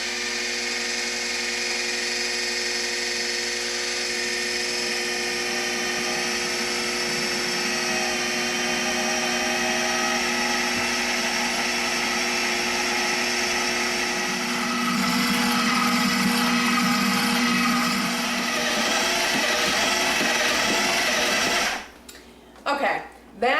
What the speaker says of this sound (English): Now I'm going to pour this in all at once with the food processor running